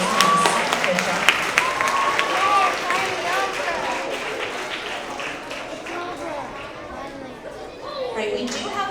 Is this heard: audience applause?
yes